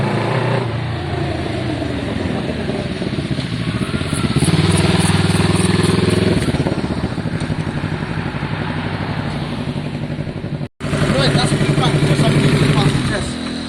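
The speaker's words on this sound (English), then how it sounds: "It runs, it rides, it cools, it does everything. It rides well, actually." A motorcycle engine runs steadily at idle inside a garage, loud and continuous throughout, with a brief dropout near the end before the rumble resumes, while people talk over it.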